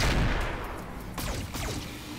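Weapons firing on an enemy vehicle in the Roguepoint tactical game, a loud booming blast that decays into rumble, then a second burst of rapid shots with whistling, descending tones.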